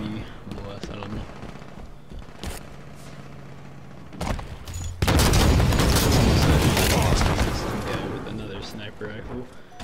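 A Hydra missile launcher fires in the shooter game Halo 5 on a custom Nuketown map, loud blasts bursting in at about four and five seconds and rolling on as a dense roar of impacts, mixed with game sound and talk.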